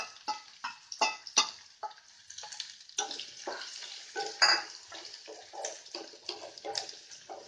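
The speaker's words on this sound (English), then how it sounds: "Now we'll add our onions which we have already cut into small pieces." Chopped onions drop into hot oil with green chilies and sizzle, stirred with a utensil that clinks and scrapes against the pan in repeated bursts, close and fairly loud throughout.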